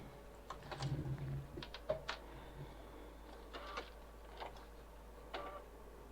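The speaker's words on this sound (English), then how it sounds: "There's my sewing machine." Faint, irregular mechanical clicking and short whirring bursts of a sewing machine stitching nearby, stopping and starting over a low steady hum.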